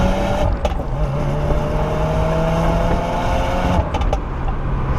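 A 2022 Subaru WRX Premium pulls hard after a downshift, its engine note steady and rising, heard from inside the car with a faint tick or two over the drone.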